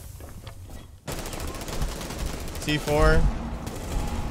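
Rapid gunfire in a tactical shooter match, bursts of shots crackling after a quiet start, with players talking over the shooting.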